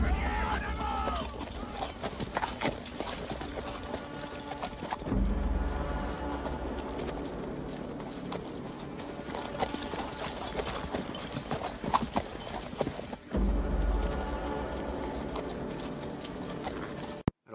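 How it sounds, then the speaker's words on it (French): Horses gallop in a cavalry charge in a film scene, with a dense rumble of many hooves, shouted commands over the top and a full orchestral score. "Lancez les chevaux. Attaque générale."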